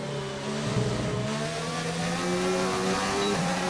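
F1 car in a racing video game power sliding through a corner, a loud high engine whine with shifting pitch and rising revs, continuous and up close, with no voices.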